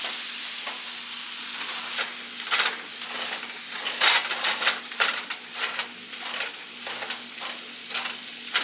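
Italian sausage cooking in a pan, a steady soft sizzle overlaid with repeated scraping and stirring strokes at an irregular rhythm, close and without voices.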